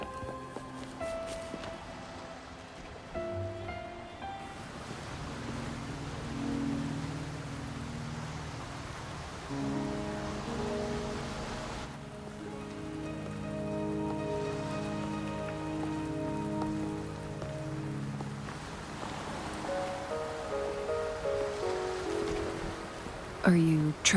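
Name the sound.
rain falling in the video game Wuthering Waves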